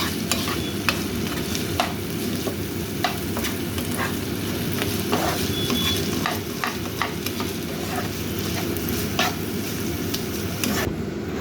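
Food cooking in a pot is stirred, with soft scraping strokes over a constant bubbling sizzle and a low rumble underneath, close by and without voices.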